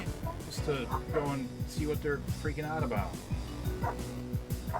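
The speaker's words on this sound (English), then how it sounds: "I apologize for the barking," Dogs yapping and barking in quick repeated bursts indoors, close and fairly loud, with someone talking over them.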